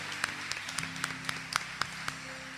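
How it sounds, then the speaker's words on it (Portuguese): A church congregation claps for the Lord: sparse, fairly regular individual claps ring out over a steady low hum, with no one speaking. "Você pode aplaudir o Senhor, faça isso, por favor"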